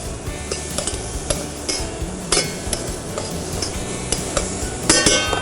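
Vegetables with a squeeze of lime get stirred in a hot pan, with a soft sizzle under repeated scraping and clinks of a utensil against the metal, no talk.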